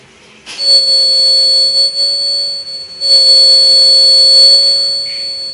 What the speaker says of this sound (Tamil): இந்த தண்ணி டச் ஆனோன்னா உங்களுக்கு இந்த அலாரம் அடிக்கும்.